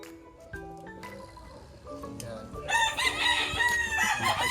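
Backyard-bred roosters in Lipa, Batangas crow loudly, one long strained call rising over scattered clucks and farmyard clatter, with another bird joining near the end.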